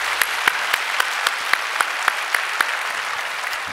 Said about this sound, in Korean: 우리 감사의 박수 올려드립니다.